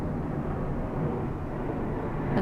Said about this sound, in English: And there's an airplane, loud one.